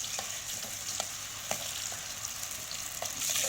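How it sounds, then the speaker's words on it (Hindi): Garlic ginger paste fries in oil in a kadai for a beef paya dish, a steady close sizzle with occasional clicks of a spoon stirring against the pan. "हमने लहसुन अदरक के पेस्ट को 2 मिनट तक अच्छी तरह से भून लेना है"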